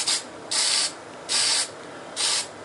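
Short bursts of spray paint hit a 4-watt preheat fluorescent strip light: three close, loud hisses of roughly half a second each, evenly spaced with quiet pauses between them.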